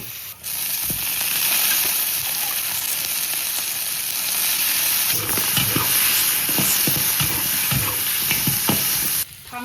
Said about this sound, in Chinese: 再给它回一下锅，把大蒜和辣椒炒香一下。